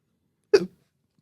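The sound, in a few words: hiccup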